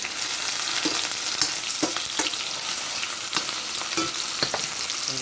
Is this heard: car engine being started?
no